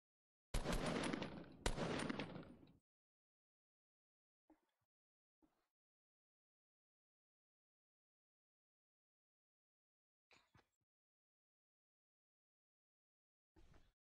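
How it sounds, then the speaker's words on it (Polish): Two loud bursts of rapid gunfire in Fortnite Battle Royale up front, then a few faint isolated shots separated by long silences. "teraz to jest głośno, ej. Te strzały i w ogóle"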